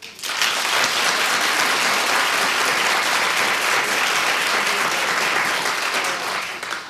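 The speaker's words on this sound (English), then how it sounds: "Clap if you're nervous." A talk-show studio audience claps loudly and steadily, a thick continuous roar of hands sustained for several seconds before tapering slightly.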